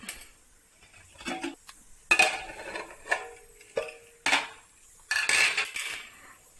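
Intermittent metallic clanks and scrapes of a pressure cooker lid and cookware being handled after cooking beef curry, in short separate bursts with quiet gaps.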